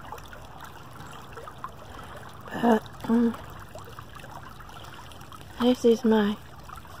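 A creek trickling steadily over its bed in nature, changed by recent storm flows, a soft continuous water murmur with a person speaking briefly over it twice.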